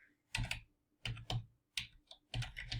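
Short bursts of keystrokes tap out an answer on a computer keyboard during a Quizlet spelling exercise, in four quick clusters of clicks, close and fairly soft.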